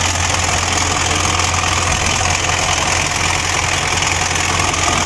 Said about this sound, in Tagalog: yung kanyang andar ay hindi maganda, no, at maingay, napakaingay. Parang may nagkikiskisan na metal,